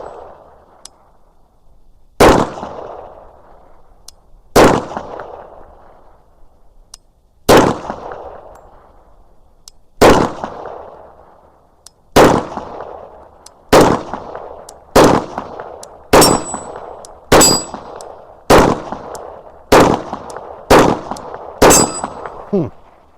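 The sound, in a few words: G22 rifle shots with compensator ringing steel targets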